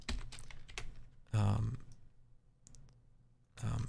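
Computer keyboard keys tapped in quick clicks during editing software work, several light presses, some in short bursts, close and fairly quiet.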